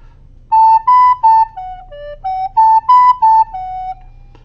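Recorder plays an opening phrase, a run of clear, breathy notes in a bouncy rhythm, close and alone over faint background hiss.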